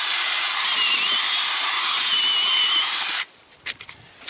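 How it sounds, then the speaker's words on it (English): A loud, high-pitched power drill whirs continuously for about three seconds while drilling a dirt hole for a trap set, then stops, leaving faint scraping and rustling. "One of your biggest friends for doing dirt holes is your drill."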